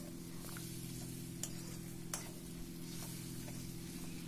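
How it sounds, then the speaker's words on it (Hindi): Fried brinjal stirred into browning tomato paste for achari baingan, a quiet steady sizzle with a low hum underneath and a few sharp clicks of the spoon against the pan. "उसको ब्राउन होने के बाद हम इसमें दोबारा से फ्राइड बैंगन"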